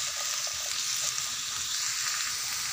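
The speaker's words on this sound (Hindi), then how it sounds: "इसको हल्का सा फ्राई करना है ताकि क्रंची क्रंची रहे" Bell pepper, boiled potatoes and peas fry in a pan, giving a steady soft sizzle with faint stirring scrapes, quiet and continuous.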